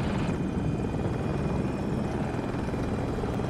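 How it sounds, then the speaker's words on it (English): A helicopter in a combat video game roars steadily close by, a dense continuous rotor and engine wash filling the whole stretch with no talk over it. "There's another chopper. Just went right by my face."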